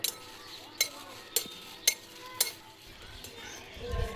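Dried red chillies and cumin roasting in a pan, stirred with a utensil that scrapes and clinks against the metal in sharp, evenly spaced strikes about every half second, over a faint low sizzle.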